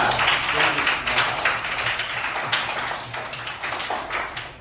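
Children and adults in a Şanlıurfa school classroom applaud a student on report card day, a lively burst of close clapping that slowly tapers off, with some voices underneath.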